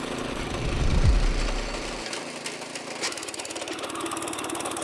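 A trencher machine jams on rocks: the engine labors with a heavy low rumble that suddenly drops out, then settles into a rapid, rattling idle-like pulse, close and steady with no talk.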